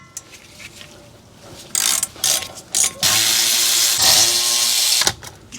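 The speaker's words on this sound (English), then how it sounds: "Now we can loosen and remove the two caliper slide pin bolts right here in these little recessed areas." A power tool with a 7mm Allen bit spins out the brake caliper slide pin bolts on a 2002 Dodge Dakota SXT RWD, a few short ratcheting bursts followed by a loud, close, steady whir of about two seconds, no talk.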